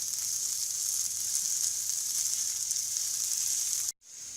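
Ingredients for a tarka dhal frying in a pan, giving a steady bright sizzle with a constant hiss, close and unbroken until it cuts out abruptly near the end, with no voices.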